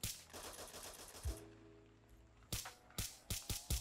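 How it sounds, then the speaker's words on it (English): Semi-automatic gunfire in a Call of Duty custom zombies game, a loud burst of rapid shots, then a pause, then five separate sharp single shots at a steady, evenly spaced pace. "Sounds like a semi-auto weapon. It's a semi-auto."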